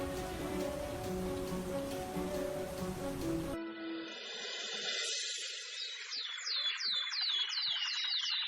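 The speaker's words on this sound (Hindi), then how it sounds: "कुछ दूर चलने पर ही जोर जोर से बारिश होने लगती है।" Heavy rain pours down in a dense, steady hiss for about three and a half seconds, then abruptly gives way to a quieter scene with chirping bird calls.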